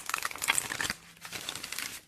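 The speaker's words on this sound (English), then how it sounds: "I'm going to shuffle one more time." Tarot card deck being shuffled by hand, a quick crisp burst of riffling and papery crinkling up close, then softer rustling as the cards settle, with no talking.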